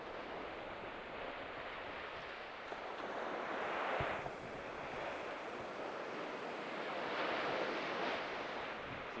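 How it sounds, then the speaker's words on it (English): Steady rushing surf with waves swelling and breaking in broad washes, mixed with wind noise, no voices. "Where are the waves?"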